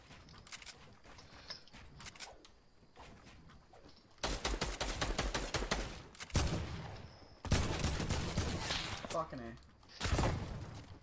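Rapid bursts of gunfire in a Fortnite match, loud volleys and rattling automatic fire coming in several clusters, with a player talking in between.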